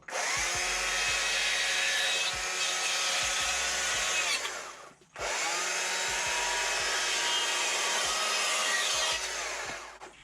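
A chainsaw carves a wooden sunflower, roughing out material about a quarter inch deep, in two long loud bursts of high revving engine whine and cutting, broken by a short pause, with no talk.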